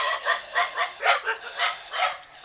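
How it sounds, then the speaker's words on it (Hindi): A guard dog in Versova village, Mumbai, barks in a steady run of about eight sharp, evenly spaced barks, moderately close, with no talking. "कुत्ते ने भौंकना चालू कर दिया"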